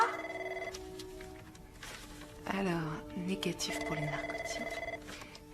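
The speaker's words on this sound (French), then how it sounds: "C'est le téléphone qui sonne." A telephone rings in a hospital setting, repeated electronic trills sounding in bursts under and between a voice reading out lab results.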